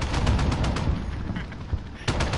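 Dense gunfire in a Modern Warfare multiplayer match crackles in rapid bursts and overlapping shots throughout, loud and close, with brief lulls between volleys.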